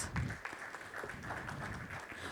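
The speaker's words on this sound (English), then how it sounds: "So give him a great round of applause." Audience clapping for a speaker at an industries and SME summit session, a brief, moderately faint round of applause from a seated crowd, steady and even throughout.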